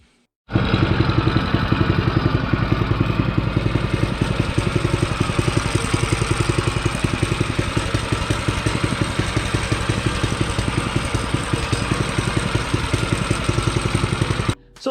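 A homemade two-wheel drive mini bike engine runs steadily at close range, a loud, continuous, even putter with mechanical clatter that holds from start to end with no talk.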